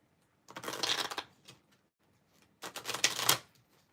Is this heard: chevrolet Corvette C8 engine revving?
no